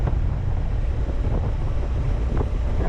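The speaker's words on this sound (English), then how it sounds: "It's quite windy today" Strong wind buffets the microphone on a Suzuki V-Strom 650 motorcycle ride near San Francisco, a constant low roar and gusty rumbling, no voices present.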